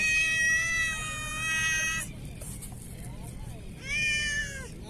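A cat meows repeatedly close by at a fishing spot in Salalah, Oman, with two drawn-out, whining cries separated by a short pause, while an angler with a hooked hand talks and groans nearby.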